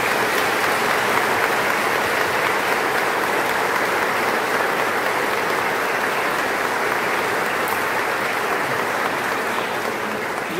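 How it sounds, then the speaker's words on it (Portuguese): A congregation at a Divine Mercy Sunday Mass claps to welcome the oblates, a loud, sustained wall of applause holding evenly for about ten seconds. "Vamos acolher uma salva de palmas,"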